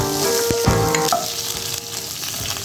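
Green chillies hit a hot pan with a loud, close burst of crackling sizzle, joined by a few clinks and scrapes of a utensil over a couple of seconds.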